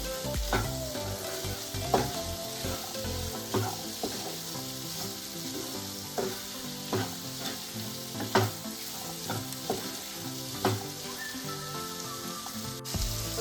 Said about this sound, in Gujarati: ચણા છે ને એને આપણે એડ કરી દઈએ અને થોડી વાર ચણાની પણ સાતરી લેવાની છે